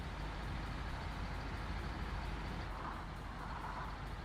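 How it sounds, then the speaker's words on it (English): A SnowRunner truck engine drones in a low, steady, continuous rumble, fairly loud and unbroken throughout. "Truck noises sound better?"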